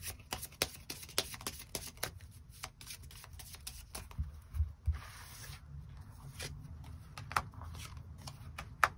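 Tarot cards are shuffled and drawn by hand in rapid, crisp flicks and riffles, a dense run of papery snaps close up that pauses briefly midway before carrying on, with no voice over it.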